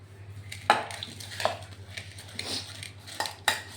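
Spicy girmit being stirred and mixed in a bowl, a few sharp clinks and scrapes of a utensil against the bowl at irregular intervals, close and fairly quiet, with a low steady hum behind.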